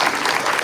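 An audience claps at a Marvel Legends panel at San Diego Comic-Con, with dense, steady applause filling the room throughout this short burst.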